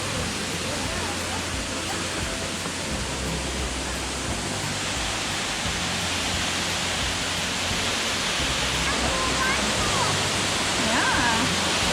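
Florida's highest waterfall, a 73-foot drop, roars as a steady, broad wash of falling water, loud and continuous throughout, with faint voices now and then beneath it.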